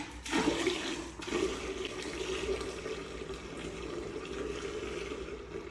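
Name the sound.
toilet flushing, water draining through the cleared pipe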